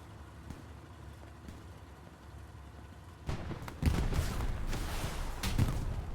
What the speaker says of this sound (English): Rockets coming across these tanks.